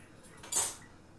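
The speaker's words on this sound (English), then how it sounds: "I'm doing the dishes, like a good adult does." Dishes being washed in a home kitchen, with a single bright clink of cutlery against dishes rising briefly over quiet background noise, close and short.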